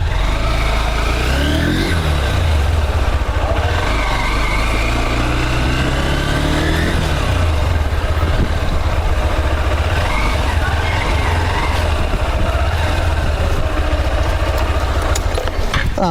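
A Honda Hornet 2.0 motorcycle with a fuel-injected engine runs loud and close while ridden, its steady hum rising and falling with throttle changes throughout.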